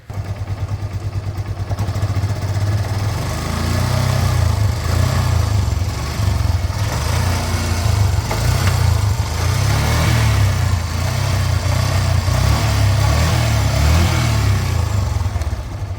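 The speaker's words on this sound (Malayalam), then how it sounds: "ആ വണ്ടി ഒന്ന് സ്റ്റാർട്ടാക്കി കേൾപ്പിച്ചാൽ സൗണ്ട് ഒന്ന് കേട്ട് നോക്കിയോ" A used vehicle's engine, sold secondhand, idles steadily at close range, then is revved repeatedly in rough pulsing surges over about sixteen seconds, with no voices.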